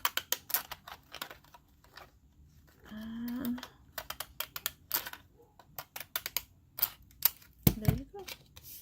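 Sharp, repeated snipping clicks of scissors cutting paper, close and fairly quiet, with a brief hum and a short spoken word in between.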